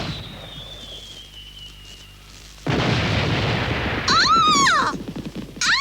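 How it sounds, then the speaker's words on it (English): Cartoon fireworks in a 1990s Moomin animated episode: after a quiet stretch with a faint thin whistle, a loud sudden burst erupts, followed by rising and falling whistling shrieks and crackling. "They're fireworks in your honor."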